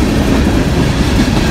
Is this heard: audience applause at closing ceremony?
no